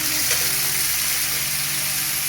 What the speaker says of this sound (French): On ajoute un peu d'eau.